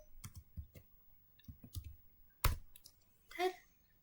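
Keystrokes on a computer keyboard while entering switch commands, scattered quiet clicks in small clusters with gaps between them, close and soft in an otherwise quiet room.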